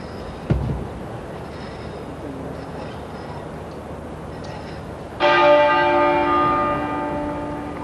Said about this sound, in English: The great tenor bell of the Abbey is tolling.